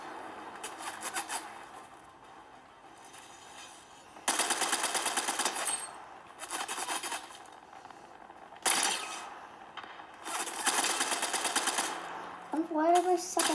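Gunfire in Fortnite comes as bursts of rapid shots, several clustered volleys separated by brief pauses, with fainter game sounds in between.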